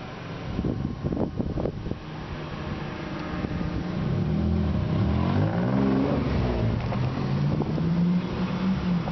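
A Nissan 300ZX driving a slalom course, its engine note rising and falling as it revs through the turns, heard from a short distance with wind rushing across the microphone and no talking.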